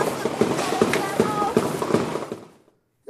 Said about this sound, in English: Gunfire like that, you know.